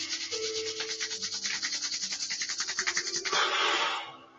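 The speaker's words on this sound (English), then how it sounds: "Then we'll rub our palms together till they're nice and warm." Palms rubbing briskly together to build warmth during a qigong exercise, a steady close swishing friction with a quick repeated rhythm, rising to a brief harder burst near the end before stopping; no talk.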